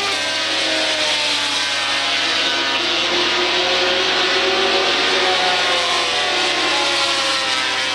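Stock cars racing at Waterford Speedbowl in a 1994 ATQMA feature event, a loud, dense wall of engine roar from several cars that holds steady throughout, with no talk heard.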